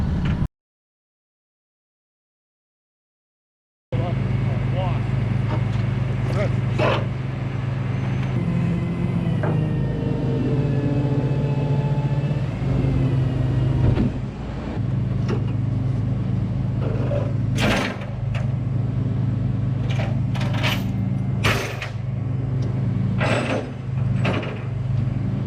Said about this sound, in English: so I'm gonna load that scooter up first.